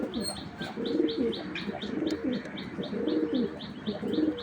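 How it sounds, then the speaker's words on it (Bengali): A male Spanish pouter pigeon coos in repeated, rolling bursts close by, with sharp chirps and faint rustling in between and no talk. "দর্শক এটা হলো স্প্যানিশ গরগরীয় পটার নর।"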